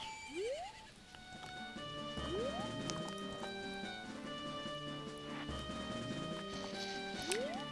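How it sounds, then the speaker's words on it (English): A horse gallops with rhythmic clip-clopping hooves in the Majora's Mask video game, punctuated by rising whinny calls, layered over game music ahead of a race against the Gorman brothers. "call your horse"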